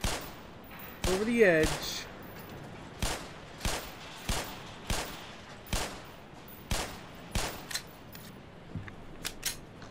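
Gunshots in Black Mesa ring out one at a time at a steady, spaced rhythm, sharp and fairly loud, about a dozen in all, with a brief spoken remark near the start.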